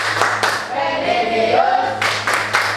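A class does a rhythmic group clap chant, sharp bursts of many hands clapping in short patterns around chanted voices, close and lively.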